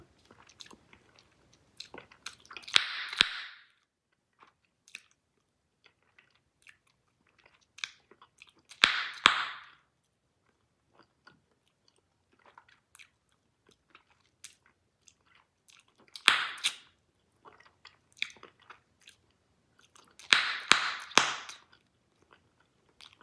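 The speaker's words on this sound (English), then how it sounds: "the sound of the popping from this gum, Big League Chew, it's got the real high pitch" Big League Chew bubble gum is chewed and popped in close, intimate bursts: four clusters of wet, crackly, high-pitched snaps spaced several seconds apart, with soft mouth clicks in between.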